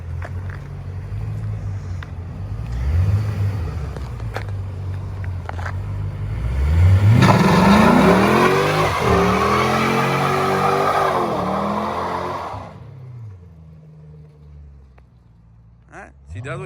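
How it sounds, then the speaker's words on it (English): A wrecked Ford Mustang does a burnout, its engine revving up, holding a loud roaring rasp for several seconds, then dropping back. People talk in the background. "just a regular burnouts in a wrecked car"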